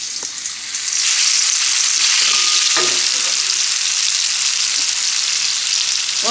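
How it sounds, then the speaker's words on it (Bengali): Bitter gourd (karela) slices frying in oil, a loud, dense, continuous sizzle that swells after the first second and holds steady, with a few faint clinks in the background. "এখন করলাটাকে ভেজে নিব।"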